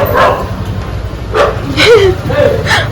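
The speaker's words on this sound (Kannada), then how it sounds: "ಯಾರ್ದ ನಾಯಿ ಅದು" A dog at the Hoskote jatre, a village temple festival, lets out several short, sharp yips and barks close by, spaced irregularly over steady crowd murmur.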